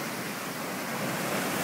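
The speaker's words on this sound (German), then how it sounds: "Ganz schön hohe Wellen heute" High ocean waves surge and wash nearby in a continuous, loud roar of surf, with no voices.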